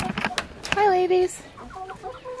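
Backyard flock of chickens with a rooster on an off-grid homestead, clucking and squawking up close in short overlapping calls, one drawn-out cackle standing out, with faint voices in the background.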